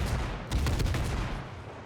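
Naval gunfire in World of Warships, a dense rumbling barrage of booming shots with a cluster of sharper blasts in the middle, loud and continuous for about two seconds.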